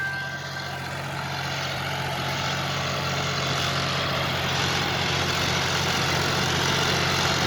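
A John Deere 5310K 55 hp three-cylinder tractor engine runs steadily, a loud, constant low diesel drone with even mechanical rumble and no speech.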